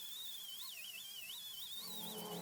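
Sanding drum smoothing a weld repair, a continuous high whine that wavers up and down in pitch as the load changes, steady and close with no talk.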